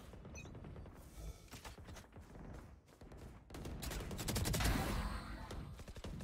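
A Phantom rifle fires in a Valorant deathmatch, heard as faint, rapid bursts of automatic gunfire that come in clusters with brief gaps between them.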